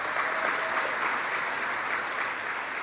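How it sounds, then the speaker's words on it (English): Audience applause at a public event with the New York governor in East Buffalo, an even, continuous patter of many hands clapping at moderate level throughout. "Give them a round of applause."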